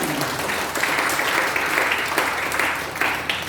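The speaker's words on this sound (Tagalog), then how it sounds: "Yung naniniwala, magsabi ng amen at pumalakpak ng malakas sa ating Panginoon." Church congregation clapping loudly in praise, a dense, sustained roar of many hands with rhythmic surges, full and close, filling the space throughout.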